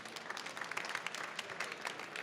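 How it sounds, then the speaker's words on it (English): An audience gives a round of applause for panelists at a women-in-technology event, a dense, continuous patter of many hands, fairly quiet and distant throughout. "let's have a round of applause for our panelists"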